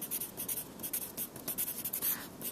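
A pen scratches graph axes onto paper in a series of quiet, close, brisk strokes with short pauses between them.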